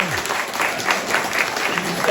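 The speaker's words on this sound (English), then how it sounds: "Let's give them a round of applause" Applause from a conference audience fills the room in a steady, even patter of many hands, with little else heard.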